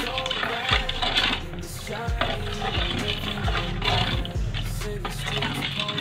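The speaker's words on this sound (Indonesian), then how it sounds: "Aduk kembali sampai rata ya." A young coconut pudding mixture with a pinch of salt is stirred in a pot, giving a steady run of scraping, knocking spoon strokes against the pan at close range.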